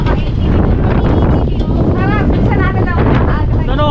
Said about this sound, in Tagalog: Ano, ang lakas ng hangin.